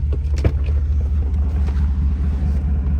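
A 2022 Chevrolet Silverado pickup with a brake pedal switch fault and check engine light on gives a steady low engine rumble, close and loud, with a brief knock early on.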